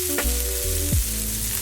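Thin-sliced pork dropped into a hot oiled pan, a brief loud sizzle with a couple of clunks from the pan, close and alone.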